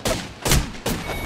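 Gunfire in Apex Legends: three loud, sharp reports evenly spaced about 0.4 seconds apart, each a broadband crack with a low thump, standing alone in the game mix.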